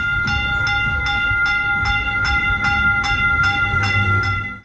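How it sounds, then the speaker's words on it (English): A Dallas Silver Line train is heard from the inside, with a steady low rumble and a regular high rhythmic chiming clatter repeating about every half second, loud and continuous until it cuts off. "Once again, we're back on the train,"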